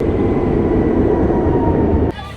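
A train rumbles loudly past at a station, a dense steady roar close by for about two seconds before it drops away abruptly.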